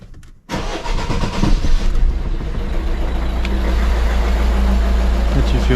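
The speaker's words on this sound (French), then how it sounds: "donc là il dit démarrer le moteur" Citroën DS3 1.6 HDi 110 hp diesel engine cranks briefly, fires up loudly at close range, then settles into a steady, clattering idle after its injectors were replaced.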